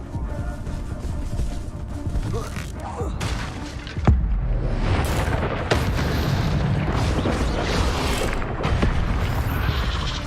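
Incendio fire spells blast repeatedly during a spider fight in Hogwarts Legacy, with booming bursts and crackling impacts under a dense, loud layer of game noise.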